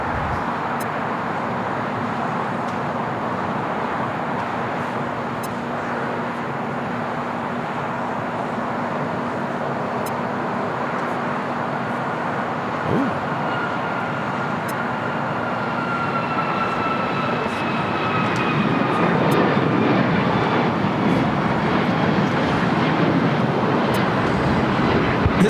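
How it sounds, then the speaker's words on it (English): United Airlines Boeing 737 MAX 8 taking off at LAX, bound for Washington Dulles: a long, loud, steady jet roar with whining engine tones, building in intensity toward the end. "United Airlines 2159 taking off to Washington Dulles on a MAX 8."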